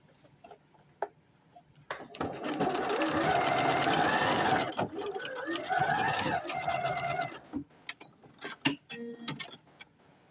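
A sewing machine stitches up the back of a denim patchwork bunny doll's head, running steadily for several seconds, then stopping and restarting with short bursts and clicks.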